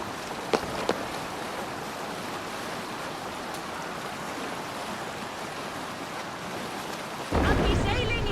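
A Viking longship in Assassin's Creed Valhalla sails across the ocean: a steady wash of waves and wind runs throughout, with a couple of faint knocks early on and a louder surge of water near the end.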